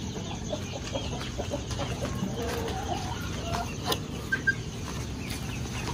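Rhode Island Red and Hubbard cross chickens cluck steadily in a coop amid a dense, continuous background of farmyard noise, with a couple of brief sharper calls standing out near the end.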